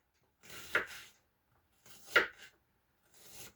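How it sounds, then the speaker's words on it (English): A knife chops an onion on a cutting board in a home kitchen, in three separate close bursts of cutting with short quiet gaps between them. "Do any of you have any tricks in chopping up onion?"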